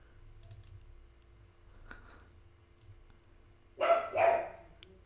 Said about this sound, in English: She hears some barking outside.